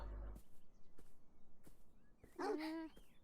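A dog in the video game Beyond Eyes lets out one sudden, loud bark or yelp as a jump scare, rising out of quiet ambience after a dull thump at the start.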